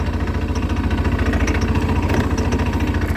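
A CFMoto CForce 600 two-seater ATV engine running steadily close by, a loud, even low-pitched throb with a rapid regular pulse, alone without talk.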